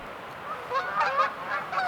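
Geese honking as they fly overhead in remote Minnesota woods, a few moderately distant calls rising and overlapping in a short burst.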